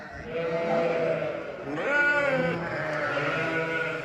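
A ewe in a crowded lambing barn bleats loudly and close up, giving a few drawn-out, wavering calls in quick succession with no talking.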